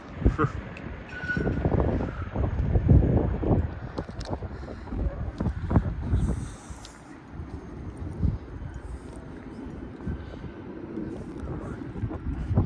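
Strong wind buffeting close to the microphone in heavy low rumbling gusts, easing briefly midway, with muffled voices speaking Ukrainian underneath.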